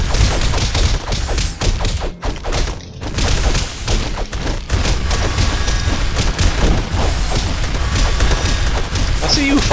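Bomb blasts in the co-op brawler Castle Crashers on Insane Mode, heavy booming thuds and crashing bursts piling up constantly over a dense, loud game mix while players shout over it.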